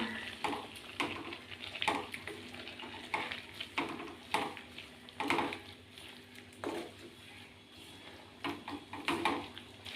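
Ash gourd and prawn thoran being stirred in a pan, a soft sizzle with repeated scraping strokes of a spoon at an irregular rhythm, fairly quiet and close, without speech.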